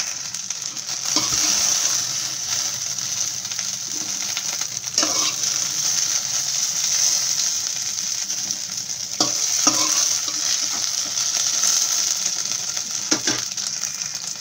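Sliced okra frying in oil in a pan for a tamarind curry, with a loud, continuous close-up sizzle and occasional scraping strokes of a spatula.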